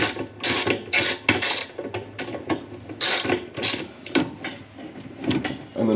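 Ratchet socket wrench with a 7/16 deep well socket working a washing machine agitator bolt loose: repeated bursts of close, crisp metallic clicking in short uneven runs with brief pauses between strokes.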